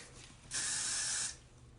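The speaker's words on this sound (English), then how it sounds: "I got to spray this piece of hair" A single hairspray can fires one steady hiss lasting under a second onto a strand of hair, close and clear against a quiet room.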